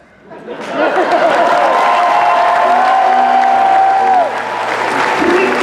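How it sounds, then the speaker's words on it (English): A live convention audience at an improvised Dungeons and Dragons show at DragonCon bursts into loud applause and cheering, with a voice and sustained tones sounding over the crowd, easing slightly near the end. "a round of applause for our gnome bard"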